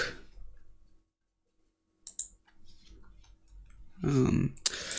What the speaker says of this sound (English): So now we're gonna click on sign in.